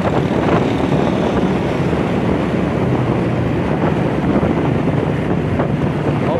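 Constant, loud wind buffeting roars across the microphone while riding a motorcycle on a breezy day, a steady dense rumble with no break and no voices.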